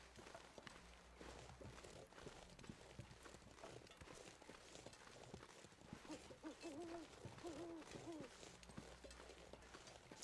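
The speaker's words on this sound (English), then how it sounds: "Owls." Owls hoot in the video game Interloper, a few soft rounded hoots in a short run midway, faint under a busy bed of footsteps and ambient noise.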